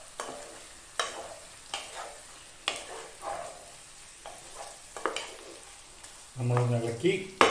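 Hariyali chicken stirred in a pan gives a series of spaced spoon scrapes over a low sizzle, close by, with the frying swelling louder near the end; no one speaks.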